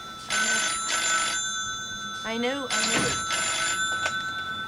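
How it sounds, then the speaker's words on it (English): An old-style telephone bell rings in repeated bursts, loud and close, with a brief spoken reply and some humming between rings. "The phone's ringing."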